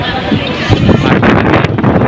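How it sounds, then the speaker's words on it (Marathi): Strong wind off the sea at Murud Beach, Dapoli, buffets the microphone in a steady low roar, with gusty rumbling throughout. "अजून पाण्याला खूप जबरदस्त असा वारा सुटलेला आहे"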